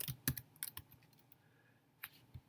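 Several quick keystrokes tapped on a computer keyboard, clustered near the start with a few more after a pause, close and faint in a quiet room.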